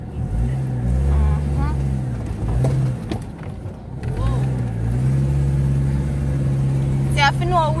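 A car jolting along a badly broken, rough road, with a steady engine drone, bumps and rattles from the body, and someone talking over the noise.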